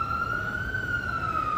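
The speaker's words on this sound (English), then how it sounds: "I really hope that these sirens are for a reason." Emergency vehicle siren on a city street, a steady sustained wail holding a loud, nearly level tone throughout.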